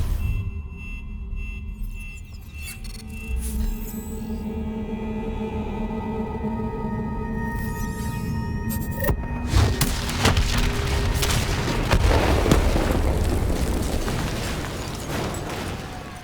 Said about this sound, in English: Detonate now!